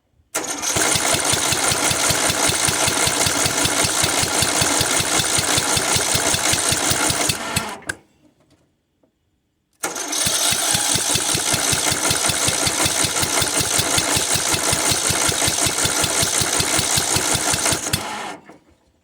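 A Murray riding mower's small engine runs loud and steady with a fast throbbing pulse, cuts out for about two seconds, then restarts and runs evenly again before stopping; the fuel-starved engine dies once the carburetor runs dry.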